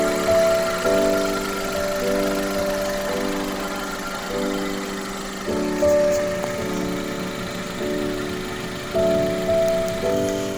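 A 2005 Maruti Esteem VXi running on LPG idles steadily with a low, even hum and a faint periodic pulsing, heard up close with no talking.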